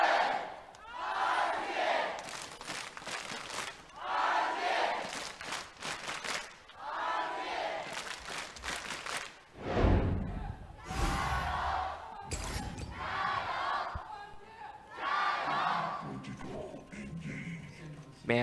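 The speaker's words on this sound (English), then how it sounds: "the crowd cheers on their two teams" Arena crowd at a League of Legends LPL Summer Split match between Royal Never Give Up and Oh My God cheers for both teams in swelling waves of roaring noise, with a commentator talking over it throughout.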